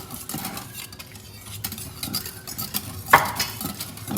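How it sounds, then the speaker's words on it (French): A spoon stirs muffin batter with milk in a bowl, producing soft scraping swirls and light clinks against the bowl, with one sharper knock near the end and no talking. "Et on mélange."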